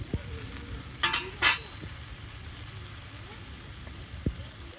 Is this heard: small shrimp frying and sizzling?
yes